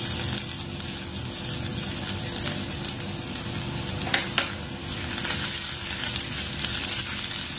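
Garlic sautéing in hot oil for a veg cheese corn franky, a loud, continuous close sizzle with a couple of sharp spatula taps midway.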